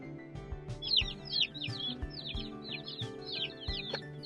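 Baby chicks just arrived by mail, a batch of Cornish Cross and Red Ranger meat birds, peeping in a rapid, overlapping chorus of high chirps, with a few bumps and low handling noises underneath.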